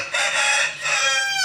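Rooster crowing in a neighbourhood where residents keep many chickens and pigeons, one loud, close, drawn-out crow with a brief break midway, heard alone without talk.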